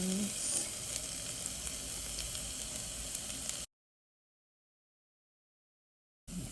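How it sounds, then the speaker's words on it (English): Onions with red and green peppers sizzle steadily in a pan, a continuous close frying hiss for several seconds before the sound cuts to silence and briefly returns. "I'm just going to let the onions and peppers cook a little"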